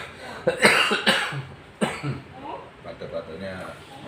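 A person receiving a massage coughs and clears their throat in a few sharp, close bursts, with speech in between.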